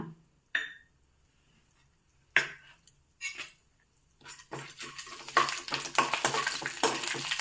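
Oil crackles and sizzles after a few sharp clatters as chana dal is tipped into a hot pan, the frying growing louder and busier toward the end.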